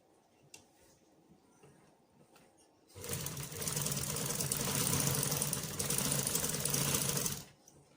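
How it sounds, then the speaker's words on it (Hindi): An electric sewing machine stitches the leg of a jumpsuit in one continuous close, rattling run of about four and a half seconds, starting abruptly after a few quiet handling clicks and stopping sharply. "आपने सिर्फ यहाँ पे जो है वो स्टिचिंग के 3-4 टांके पक्के करने हैं"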